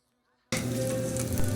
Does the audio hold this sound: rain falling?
no